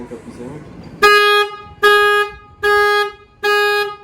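Four loud, steady electronic horn-like tones from a Renault Megane 1.3 TCe 140 HP car alarm in a regular on-off pattern, each about half a second, close by, after faint background chatter.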